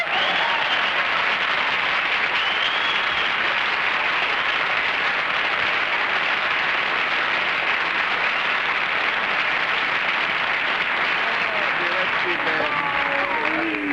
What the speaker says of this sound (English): the applause gave it away